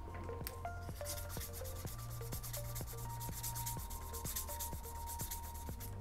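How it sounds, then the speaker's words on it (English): Repeated back-and-forth rubbing of fine-grit finishing sandpaper on turning wood ferrules, soft rhythmic strokes close by, with a faint tonal hum in the background. "We're gonna switch to our fine grit finishing sanding paper."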